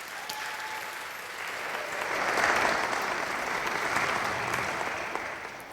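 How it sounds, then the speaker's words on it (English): Warm applause from a lecture audience thanking the organizing committee, swelling in the middle and continuing evenly without any voices. "Just a round of applause for them"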